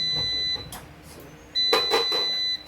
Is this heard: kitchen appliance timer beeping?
yes